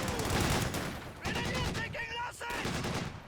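A DShK heavy machine gun in the Company of Heroes 2 battle game fires dense, rattling bursts that overlap other battlefield gunfire, while a commentator's voice runs over the shooting.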